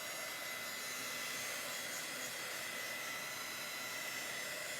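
A hair dryer blows steadily on chalk paste over a stencil on a vintage truck craft project, a continuous airy whoosh holding at an even level throughout with no talk.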